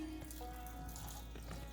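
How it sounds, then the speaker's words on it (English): Water poured into a cooking pot of tomato sauce and garbanzo beans for an Indian curry gravy, a short, soft steady trickle and splash close by with no talk. "And we'll go ahead and add some water."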